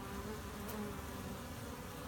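A steady, dense buzz of many honeybees in a package being installed, close and continuous, with no voices.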